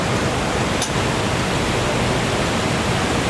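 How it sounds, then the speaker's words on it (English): Water pouring in a street fountain-style waterfall at a city film location, a dense, steady rushing roar heard up close and continuous throughout, with no speech. "So in the movie, this is the waterfall."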